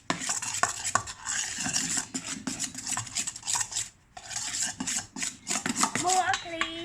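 Fluffy slime mixed with contact solution is stirred in a bowl, giving repeated wet scraping and clinking strokes, close and fairly loud, with brief pauses and a voice faintly in the background.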